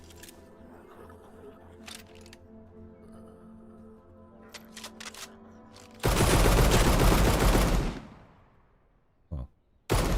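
In the Dune: Awakening video game, a few scattered sharp clicks come first, then a loud, dense burst of gunfire roars for about two seconds before cutting off, followed by a couple of brief short blasts.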